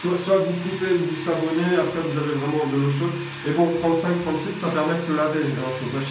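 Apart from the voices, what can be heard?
No everyday noise stands out behind the speech.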